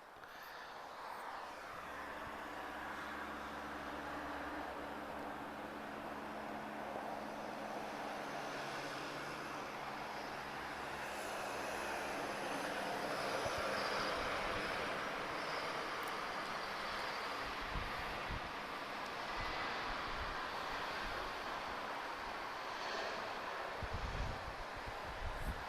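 Airbus A321neo landing at Lisbon Airport, a steady broad jet roar that swells slightly toward the middle, with a low engine drone early on and scattered rumbling bumps later, heard from a distance with no talking.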